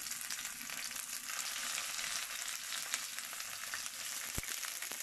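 Prawns fry gently in olive oil, giving a soft, continuous close sizzle with one brief knock near the end and no talking.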